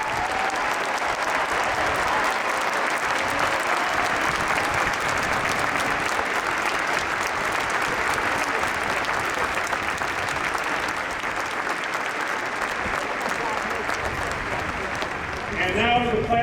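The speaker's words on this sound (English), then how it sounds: "stand and give a round of applause" A stadium crowd at a 2014 university commencement applauds in a sustained, dense roar of clapping that holds steady throughout, with a brief voice rising near the end.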